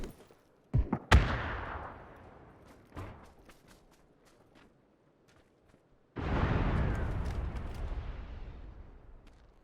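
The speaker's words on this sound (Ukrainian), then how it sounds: "Тачку хтось підірвав." A car blowing up in PUBG: sharp distant blasts and cracks early, then a sudden heavy rumbling explosion that swells and slowly fades, fairly faint overall.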